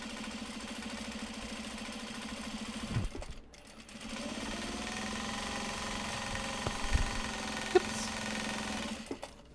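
A sewing machine runs steadily as it stitches a seam through upcycled obi and kimono fabric, with a short pause near the middle before the motor whirs on again close up. No one talks.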